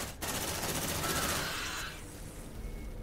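Automated gun turret firing in the video game Aliens: Dark Descent, a dense, rapid burst of loud shots lasting a couple of seconds before cutting off into a quieter rumble.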